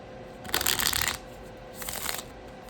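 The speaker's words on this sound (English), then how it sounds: "Oh, it shuffles pretty well for" Two quick riffle shuffles of a tarot card deck, crisp and close, with a short pause between them and no talking.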